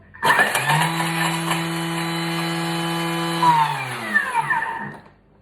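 A Thermomix chopping basil for a quiche, a loud whirring motor whine that starts abruptly, holds steady for about three seconds, then winds down in pitch and stops.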